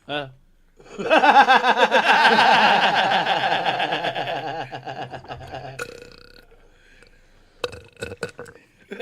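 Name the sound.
gurgly burp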